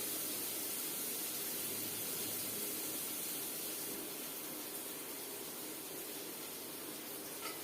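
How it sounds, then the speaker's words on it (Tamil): Onions sizzle in a pot with curry leaves and sundakkai vathal for a one-pot vathal kuzhambu, a soft, steady frying hiss that continues faintly and evenly throughout. "இப்போ இந்த வெங்காயம் வதங்குற வரைக்கும் வெயிட் பண்ணணும்."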